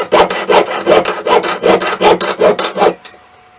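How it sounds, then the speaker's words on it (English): A jeweler's saw cuts through sheet metal in quick rhythmic back-and-forth strokes, about a dozen rasping passes close up and loud, ending abruptly into near silence. "So I'm going to turn and saw outside the line."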